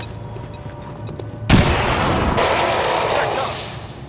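Grenade explosion in the video game XCOM 2 Long War 2: a sudden heavy boom hits after faint game sounds, then a broad rumbling roar that slowly fades, loud and close.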